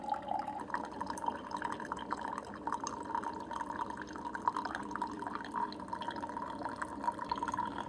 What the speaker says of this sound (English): but you do get some drips coming out around the side here